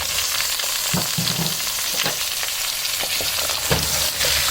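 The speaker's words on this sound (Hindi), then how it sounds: "अब इसमें मैं ये सारे आलू शामिल कर दूँगी।" Potatoes sizzle and fry loudly in a hot pan, with a few scraping stirs and clatters of pieces dropping in.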